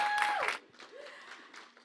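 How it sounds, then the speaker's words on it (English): A church congregation gives a burst of applause as a hand clap of praise for their pastor, a short, moderately loud clapping that fades quickly into quieter murmuring and speech. "let's give our pastor another hand clap of praise"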